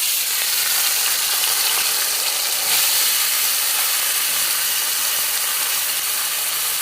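Loitta fish, also called Bombay duck, frying in very hot oil in a wok, a loud, steady, broadband sizzle and hiss holding evenly for several seconds with no voices.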